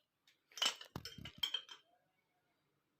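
A spoon clinks against a bowl while cocoa is stirred in for a budget tangerine cake: a few close, bright metallic taps and scrapes clustered over about a second and a half, then silence.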